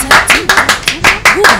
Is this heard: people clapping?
yes